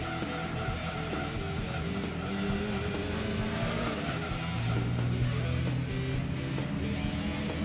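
Racing car engine in the Gran Turismo 2 video game, a steady sustained drone with shifting pitch and some tyre squeal, continuous and fairly loud throughout without talk.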